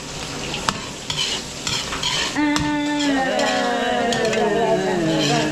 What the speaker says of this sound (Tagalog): ayan lang natin maluto yung ating sibuyas, bawang, tsaka luya bago natin lalagay yung gata